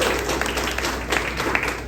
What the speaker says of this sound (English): We'll give her a couple of applauses.